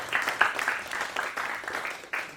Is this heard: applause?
yes